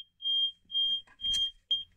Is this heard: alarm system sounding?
yes